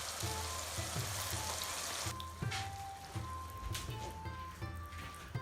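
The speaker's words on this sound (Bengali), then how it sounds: "সেখানে দশ পিস চিংড়ি আছে আমরা সবটুকু চিংড়ি দিয়ে দিচ্ছি" Ten head-on shrimp drop into a hot pan, setting off a dense, close sizzle that settles into irregular crackling and spattering pops, with a voice speaking over it.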